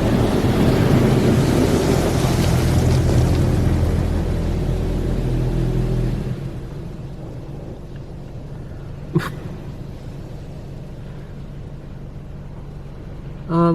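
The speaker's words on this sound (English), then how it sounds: "A protectant product is now being applied to your vehicle." An automatic Washworld Razor Double Barrel car wash sprays protectant onto a vehicle, a loud rushing spray for several seconds that then drops to a quieter hiss with a single knock.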